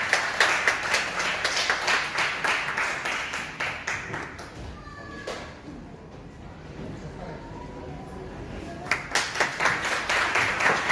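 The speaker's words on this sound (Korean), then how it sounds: "나오실 때 박수 한번 치겠습니다" A seminar audience at a church industry forum claps for a speaker coming forward, a dense burst of applause that fades midway, leaves a short quiet gap with a ping, then resumes.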